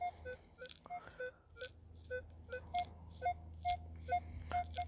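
A Minelab Equinox metal detector gives a string of short electronic target tones, quick repeating beeps at varying pitches over a low hum, faint and close with no talking.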